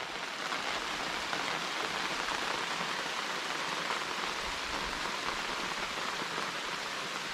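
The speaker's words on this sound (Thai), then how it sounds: "ฝนตกแล้ว" Steady rain pours at a natural fishing spot for striped catfish in Thailand, a dense continuous hiss of drops on surfaces, loud and close, unbroken throughout with no talking.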